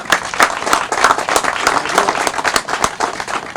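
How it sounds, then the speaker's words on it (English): A round of applause for the Gautieri family: a crowd clapping steadily and loudly at an event, dense overlapping claps continuing for a few seconds without a break. "let's do one more round of applause for the Gautieri family"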